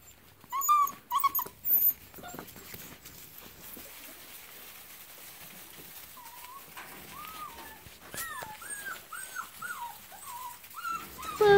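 Soft dog whimpers and a couple of short yelps at first, then a run of high, thin, rising whines that repeat steadily, close by.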